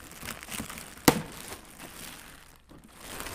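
Gift paper crinkles softly as a taped present is unwrapped, with one sharp tearing snap standing out amid light rustling nearby.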